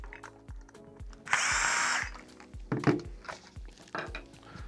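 A power driver whirs for about a second, loud and close, while a Phillips head screw is backed out of the top of a GDS Tough Dock back cap, with light handling clicks before and after.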